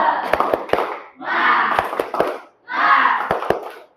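A group doing a rhythmic Indonesian spirit clap (tepuk semangat) in a teacher training class, with three bursts of crowd shouting punctuated by sharp, evenly spaced hand claps, close and loud, separated by brief pauses.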